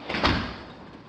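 A garage closet door opens in one short, dull whoosh and thump that quickly fades, close by and with no talk.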